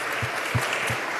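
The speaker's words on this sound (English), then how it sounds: "Let's give her a round of applause for all she does." A round of applause at a mayoral town hall meeting in Coney Island, a brief burst of dense crowd clapping at moderate loudness, with a few low thumps under it.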